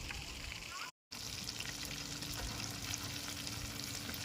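Chicken pieces frying in hot oil for a KFC-style crispy chicken recipe, a steady close sizzle and crackle that cuts out briefly near the start, then continues unbroken to the end.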